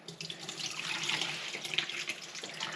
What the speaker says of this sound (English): So what I'm going to do is gently pour